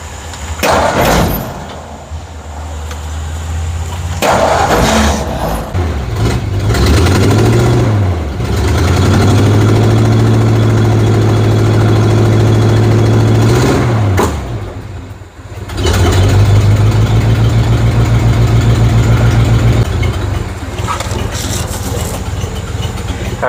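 An engine is started and left idling steadily, with a couple of rev swells partway through. It runs loud and close, without any talk over it.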